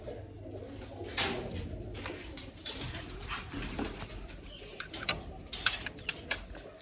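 Soft, low pigeon coos sound repeatedly at close range, mixed with faint rustling and a few sharp clicks toward the end.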